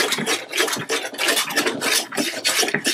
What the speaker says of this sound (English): it's taken that paint off absolutely beautifully. It's a scraper plate.